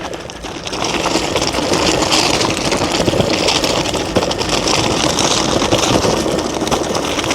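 Dual Varstom compressed-air motor vehicle running at 65 psi, a loud continuous rushing, buzzing drone that rises at the start and holds steady over a bumpy ride.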